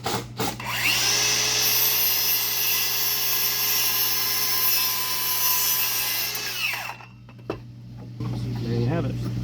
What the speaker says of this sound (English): I'll just use a circular saw.